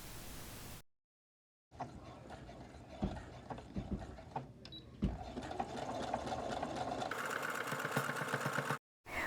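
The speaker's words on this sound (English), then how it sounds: "I'm only going to stitch across the top of the handle, and I've decided to use a zigzag stitch." A sewing machine runs a zigzag stitch across the top of a cushion handle, a steady mechanical whir with rapid ticking. It stops briefly, then resumes and runs continuously at moderate volume.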